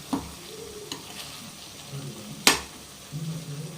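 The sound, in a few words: ridge gourd frying in oil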